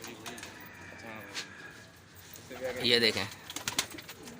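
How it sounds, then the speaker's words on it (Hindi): Colored pigeons, a brother's flock including round-tailed gola birds, coo and call in a loft while someone speaks over them, with a louder burst of bird calls midway. "ये भाई के कुछ रंगीन कबूतर हैं सारे।"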